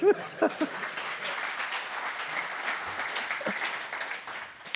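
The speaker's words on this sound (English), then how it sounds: "A round of applause for my beautiful assistant." Applause from a conference audience at a developer-platform talk, a steady wash of clapping at moderate level after a brief voice at the start, tapering slightly at the end.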